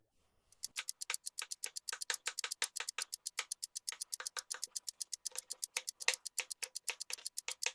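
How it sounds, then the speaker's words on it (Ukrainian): Close, rapid knife taps on a cutting board as button mushrooms are diced into cubes, a steady rhythmic run of crisp chops with no talking. "Шампіньйони також нарізаємо кубиками, але трохи більшими."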